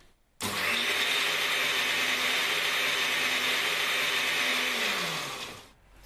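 Fruit with pulp being blended until smooth and creamy, the blender motor kicking on abruptly and whirring loudly and steadily for about five seconds before cutting off.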